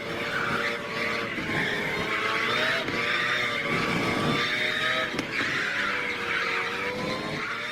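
Stock race car in the Gran Turismo 7 video game on its final lap, chasing a Toyota Supra through a technical section: a loud, steady engine drone with squealing tyres, running unbroken throughout with no talk.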